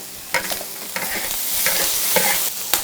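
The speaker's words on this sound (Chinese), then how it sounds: "再加上胡萝卜、青红椒、木耳，给它清炒一下。" Carrots, red and green peppers and wood ear mushrooms sizzle in a hot wok, with a spatula scraping and tossing them in quick repeated strokes, loud and close.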